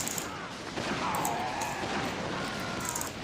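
Distant gunfire in a Team Fortress 2 match, a steady low crackle of shots and explosions running throughout with faint mechanical clatter, no talk.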